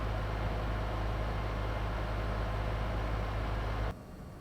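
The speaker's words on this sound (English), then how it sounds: "It sounds a bit like having an air conditioner running on the table next to me." Steady broadband whoosh of a noisy cooling fan on a modded PS5, close and constant like an air conditioner running nearby, cutting to a much quieter hum near the end.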